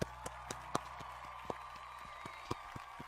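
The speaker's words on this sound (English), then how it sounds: "I clapped." A few sharp hand claps ring out close and fairly faint, spaced irregularly over a low steady background hum.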